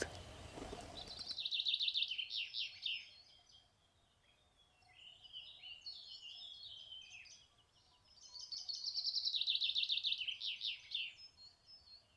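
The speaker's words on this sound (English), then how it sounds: "Oh, there's a bird." Bird calling outdoors on a hiking trail, bright rapid chirping trills in two clear bursts with softer twittering between them, moderately near against quiet background.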